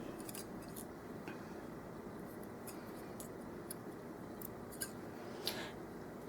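Small scissors snip thread on a tulle tutu. A few faint, crisp cuts sit close against a quiet background hiss, spread out without any regular rhythm.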